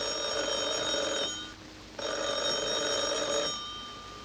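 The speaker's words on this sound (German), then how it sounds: "Das Telefon klingelte nämlich." An old telephone bell rings in two long, loud metallic bursts separated by a short pause, close by and steady, with a quiet room tone between rings and no speech over it.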